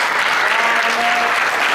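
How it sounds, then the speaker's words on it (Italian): An audience at a live event applauding the teachers, a dense, even wash of many hands clapping continuously throughout, fairly loud and with no break. "E un applauso alle professoresse."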